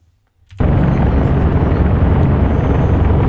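Vickers Vimy biplane engine in Flight Simulator X starts after a half-second of near silence, then roars on as a loud, steady, dense drone for the rest of the clip.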